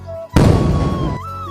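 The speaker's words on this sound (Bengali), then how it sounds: "বুম ফুটাবে এখন।" A firecracker set off during a New Year celebration erupts in one loud, close burst that crackles and hisses for nearly a second before cutting off.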